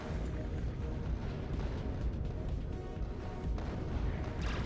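Enemies in the Factorio video game firing at defensive turrets, a dense, continuous barrage of booming shots and crashes that stays loud and steady throughout, with no talk.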